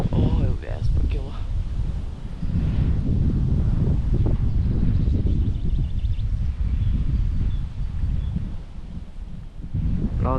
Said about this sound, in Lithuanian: O, jau vėjas pakilo.